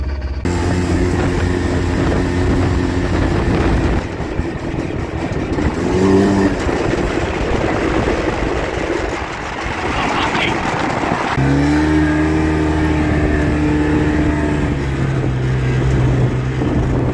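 A side-by-side utility vehicle driving along with its engine droning steadily, pitch rising and falling as it shifts and accelerates, wind and road rumble throughout, with voices faintly beneath.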